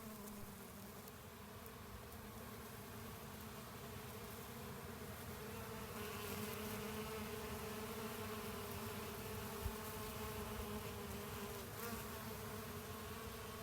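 Steady buzzing of many bees of several species drones on continuously outdoors in a potato field, a soft, even hum that swells slightly partway through with no voices.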